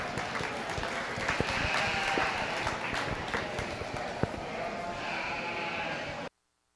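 Audience applause at a 2024 sheep show livestock arena rolls steadily for about six seconds, mixed with sheep bleating and a few sharp knocks, then cuts off abruptly.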